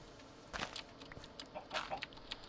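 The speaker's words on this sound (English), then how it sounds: "I'm actually going to go kill some chickens as well" Chickens clucking in the Minecraft video game, a few short, faint cluck bursts scattered over a quiet background.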